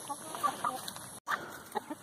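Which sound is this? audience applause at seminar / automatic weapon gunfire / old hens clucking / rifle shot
old hens clucking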